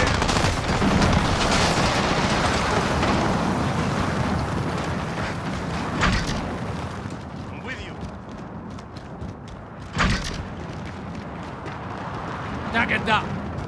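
Dense, continuous battlefield gunfire from Call of Duty: Modern Warfare fills the stretch, with a few sharper close shots standing out and in-game voice callouts heard over the din.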